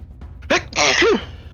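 A single loud, close sneeze from someone seated at a tabletop game session, a sharp inhaled buildup followed by a forceful burst, in a quiet room.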